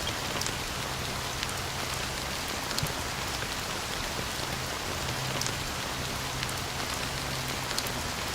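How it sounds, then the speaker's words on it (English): Steady rain falls across a video game world, a dense, even hiss that holds throughout with occasional louder drops, and nobody speaks. "So, how long has this rain been going on?"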